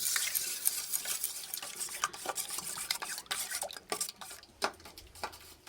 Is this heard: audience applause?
no